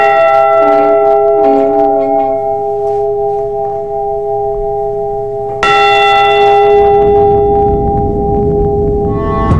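The Edmund Fitzgerald's ship's bell tolls loudly with a sustained, resonant ring of layered overtones, struck again partway through so a fresh clang swells over the fading hum of the first.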